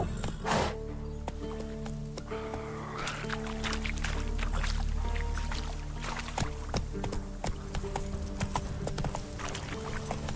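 Horse hooves clip-clopping at a steady riding pace in The Witcher 3 on PC, repeated sharp hoof strikes over continuous game music and ambience, fairly close and even in level.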